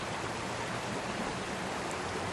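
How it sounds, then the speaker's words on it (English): Stream water flowing close by during a night walk in the woods, a steady, soft, broadband rush with no other sounds over it. "You can hear the water next to me?"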